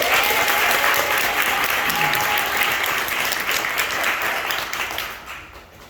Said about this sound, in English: I think that does deserve a round of applause for us